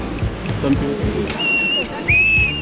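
Two short, high whistle blasts ring out over a busy, noisy background with scattered voices, during river rafting in Rishikesh.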